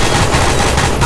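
Rapid, dense automatic gunfire from a Call of Duty weapon in the game Garry's Mod, a continuous loud burst of shots with no pauses and no talking.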